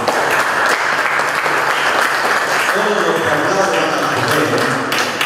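Loud applause welcoming a newlywed couple at a wedding ceremony in Pucallpa, steady clapping filling the whole stretch with a voice speaking over it.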